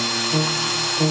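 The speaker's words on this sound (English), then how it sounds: "switches to a more slender drill, which should bore a hole quickly" A slender drill bit whines as it bores into a workpiece, a steady high-pitched motor tone that dips and rises in pitch twice as pressure changes, close and continuous.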